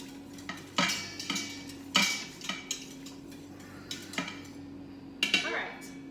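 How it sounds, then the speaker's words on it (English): A metal spoon stirs heated raw milk with dissolved gelatin in a pot, giving irregular scrapes and sharp clinks against the sides, close and fairly clear over a low steady hum. "I'm just going to keep stirring it just a little bit"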